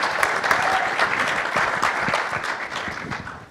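A seated panel audience at a property tax forum breaks into steady applause for a speaker, a dense sustained clapping that holds evenly and then begins to thin toward the end.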